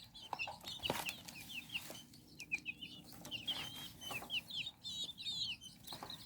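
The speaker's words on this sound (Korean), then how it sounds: "꽁하고 닭하고 관상닭하고 교배된 병아리가 태어난 거죠." Pheasant-chicken hybrid chicks cheep and cluck in quick, high repeated peeps, close and fairly soft, with light rustling among them.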